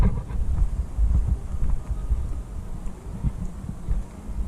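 Wind rumbles against the microphone in a low, uneven buffeting that rises and falls, steady and fairly close.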